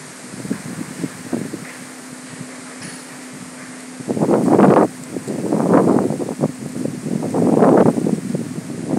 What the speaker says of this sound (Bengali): ভয়ানক হাওয়া চলছে বন্ধুরা, দেখো ভয়ানক হাওয়া।